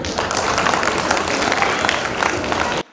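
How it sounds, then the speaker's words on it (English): A large audience at an ILC chief guest address breaks into sustained applause, dense steady clapping filling the room for nearly three seconds before cutting off abruptly. "Clap for them."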